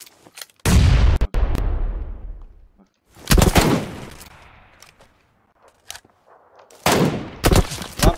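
Gunfire from a weapon set to single-shot mode in the battle royale game PUBG Lite: a few loud, close shots in separate clusters, each trailing off in a long, rumbling echo, with quiet gaps between them.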